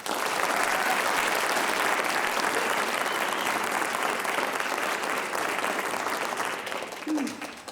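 An audience at a student writers expo claps loudly and steadily for several seconds before the applause thins out at the end.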